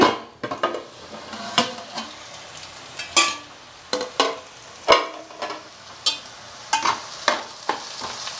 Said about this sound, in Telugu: ఉల్లిపాయ ఏగిపోయింది చూసారుగా